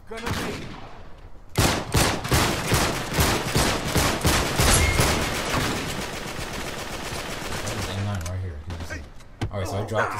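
Gunfire in a shooter video game, loud rapid bursts of shots in quick succession that fade into a dense rumble, followed by a few heavy thuds.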